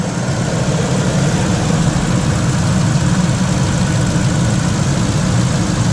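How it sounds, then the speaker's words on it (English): A 2005 Ford F-150 king cab 2WD with the 5.4-liter Triton 3V V8 idles steadily up close, a continuous low rumble with a possible slight valve or lifter tick, and no voices. "Old truck runs pretty good."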